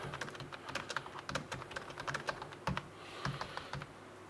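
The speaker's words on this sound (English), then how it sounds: "Let's just do a quick typing test." Steady, quick typing on a Cherry Gentix wireless keyboard with irregular clacks and a few heavier key strikes, fairly quiet and close, no voices.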